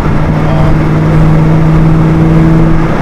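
A car engine runs steadily and loudly on a track in Michigan, a constant droning whir with a sustained mid tone that shifts slightly in pitch, close and without voices.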